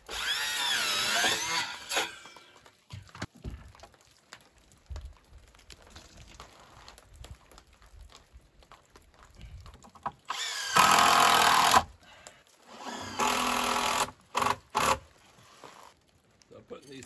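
A power drill driving 10-inch screws on Makita batteries: a loud whirring burst at the start, then two more drilling runs later, separated by quieter handling noises.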